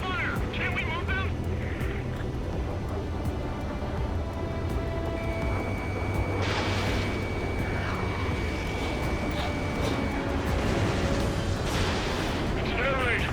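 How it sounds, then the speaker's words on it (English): An air raid in Ace Combat 7: Skies Unknown, with droning enemy aircraft overhead, booming anti-aircraft fire and explosions filling a dense battle soundscape while voices talk over it. "It's an air raid. We're being attacked by enemy aircraft."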